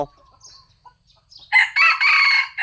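A rooster with green plumage crows loudly and close by in a couple of bursts, after a few faint scattered sounds.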